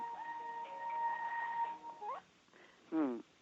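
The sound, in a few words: phone ringtone ringing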